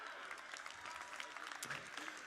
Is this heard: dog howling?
no